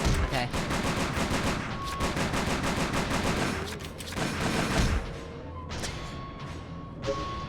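Rapid gunfire from the Silent Hill arcade shooter, with bursts of machine-gun-style shots rattling steadily for about five seconds, then a few sparse, separated shots as the firing trails off.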